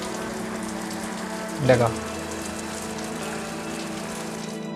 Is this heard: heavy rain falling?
yes